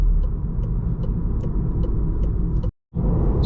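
A 2019 Volkswagen Golf R hot hatch with a six-speed manual gearbox drones steadily on the road from inside the cabin, its engine rumbling loud and close, then cutting out briefly near the end before resuming.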